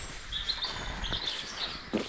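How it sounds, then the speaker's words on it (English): In a country park, small birds chirp faintly in the distance, giving a few thin, high tweets over quiet outdoor ambience and a soft breeze. "Plenty of birds."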